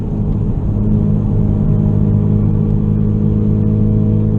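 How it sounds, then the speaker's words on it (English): Engine note of a 2016 Ford Focus RS at highway speed, heard from inside the cabin, a steady loud droning rumble with constant road noise that pulls hard without any break. "Now I'll really open her up one time just so you guys can hear"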